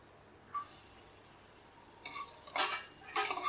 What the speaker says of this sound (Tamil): முந்திரி திராட்சை ரெண்டுமே வறுபட்டுடுச்சு